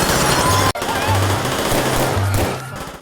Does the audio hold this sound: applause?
no